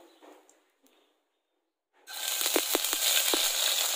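Ginger paste hits hot oil with a sudden loud sizzle after near silence, a bright steady frying hiss with a few sharp pops and spatters, in a home kitchen making a Bengali pumpkin greens dish.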